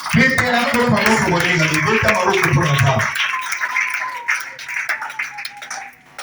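Church congregation in Oyo clapping and cheering during a Sunday service, rhythmic hand claps and voices over a loud preacher's speech and music at first, then the applause thins to scattered claps and calls.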